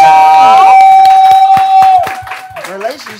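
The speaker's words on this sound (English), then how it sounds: "So thanks. Clap it up" Studio audience clapping and cheering at a live comedy show, loud broadband bursts with a sustained whistle-like tone early on, fading toward the end.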